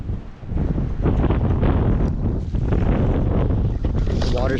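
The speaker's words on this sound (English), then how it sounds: "The water's flowing through pretty well." Water rushes steadily through a newly built culvert at a stream crossing, loud and close, with heavy wind buffeting the microphone.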